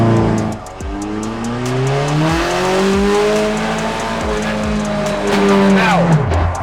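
A car drifts through a corner on a handbrake pull: a loud engine revs up and down while the tires squeal and skid, ending in a sharp rising screech.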